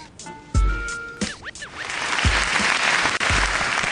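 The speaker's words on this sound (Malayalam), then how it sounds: "എല്ലാരും കൈയടിച്ചേ." An audience at a singing audition applauds, loud continuous clapping that builds after a few sharp thumps and musical tones, filling the room up close.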